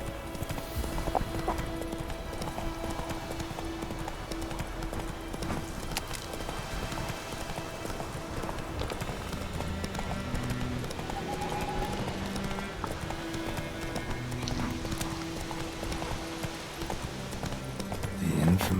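Roach, the horse in The Witcher 3, gallops in a fast, steady run of hoofbeats over game ambience and music, loud and continuous throughout.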